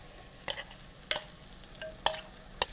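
A paste being stirred into a frying onion mix over low heat: a soft, steady sizzle punctuated by four sharp spoon scrapes against the pan, close up and alone without speech.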